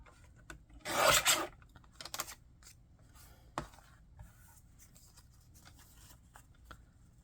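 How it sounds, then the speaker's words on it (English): Cardstock being cut to a 1-inch strip for card making, a short loud rasping slice near the start followed by a few fainter scraping and tapping sounds, with no talking. "So let's just cut it at 1 inch and see what happens."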